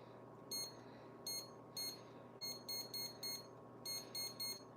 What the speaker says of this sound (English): So there's the timer.